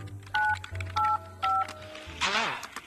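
Telephone keypad tones dial a number in the VR game Budget Cuts, three evenly spaced two-tone beeps followed by a rising ringing burst, heard close and clear with a low hum beneath.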